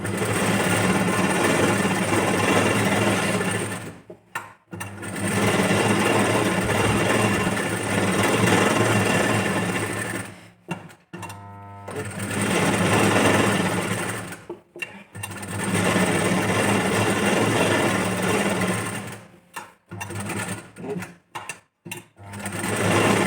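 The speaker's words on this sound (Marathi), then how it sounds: "आता जे आहे आपण याला पण इथं स्टिच करून घेऊ." A sewing machine stitches fabric for a princess-cut blouse in rapid, continuous bursts of needle clatter, stopping and restarting several times between runs.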